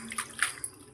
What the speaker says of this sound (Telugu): కొత్తిమీర ఒక కట్ట అయితే తీసుకున్నా, దాన్ని చిన్న చిన్న ముక్కలుగా కట్ చేసి ఇలా వాటర్లో కడిగి